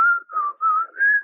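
A short whistled melody, clear and close, three or four sustained notes rising and falling with brief breaths between them.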